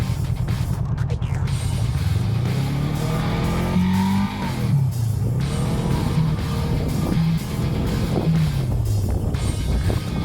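A Honda Rebel 500 sports cruiser fitted with 10-inch ape hanger bars is ridden, its engine droning steadily with rising and falling pitch as gears change, under heavy wind rush, with no talk.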